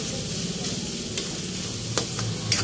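Potatoes fry with a steady sizzle in a pan for breakfast beef tomato, while a utensil stirs them with scraping clinks, close and continuous.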